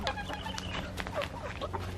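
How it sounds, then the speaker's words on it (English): Several hens cluck and chatter in a farm chicken run, overlapping short calls close by over a low steady background hum. "Here's the chicken run with all the happy chickens."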